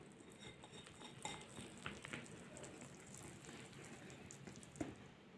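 Chocolate cupcake batter being stirred by hand in a bowl, a steady soft scraping and clinking of utensil against the sides with occasional sharper taps, fairly quiet and close with no voices.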